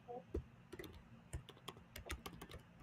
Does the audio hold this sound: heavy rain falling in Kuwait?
no